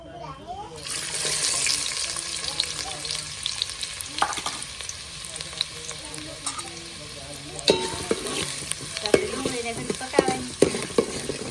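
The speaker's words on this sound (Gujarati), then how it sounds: "તેલ ફટાફટ તેલ ગરમ થઈ જશે તો આપણે સૌથી પહેલાં નાખી દઈએ ડુંગળી" Chopped onion frying in hot oil for a crab biryani, a steady close sizzle with stirring scrapes, growing busier and crackly with spatula clicks toward the end.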